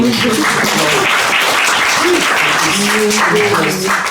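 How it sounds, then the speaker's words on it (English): An audience at a lecture on Belarusian culture claps for Yasha, a continuous round of applause with voices audible over the clapping. "let's just clap to Yasha"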